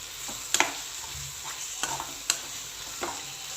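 Ridge gourd masala curry scooped from the pan into a serving bowl, several distinct scrapes and spoon knocks over a faint low sizzle, close and unhurried.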